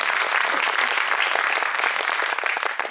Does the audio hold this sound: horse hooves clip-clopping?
no